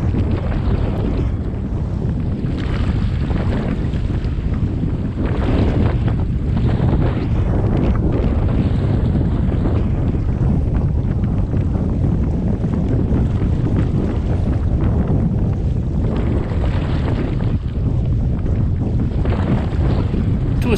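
Very strong wind buffets the microphone continuously during a canoe trip on open water, a loud rough rushing roar with faint water sounds beneath.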